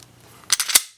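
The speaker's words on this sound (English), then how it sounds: "Trigger pull is about 6 pounds." Dry-fire trigger pull on a Smith & Wesson M&P pistol, roughly 6-pound trigger: a few sharp close clicks in quick succession after a quiet start, then silence.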